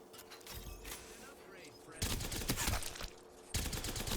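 Automatic weapon fire from Apex Legends gameplay while strafing, with rapid bursts of loud shots in a few separate volleys and game effects underneath.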